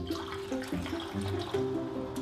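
Alkaline water at pH 9.5 is poured into several containers in turn, a steady splashing trickle that runs continuously at moderate loudness with no talking.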